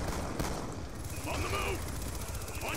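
Shotgun blasts ring out in the Black Ops II online match: several sharp, loud reports in quick succession over busy game noise, with faint background voices.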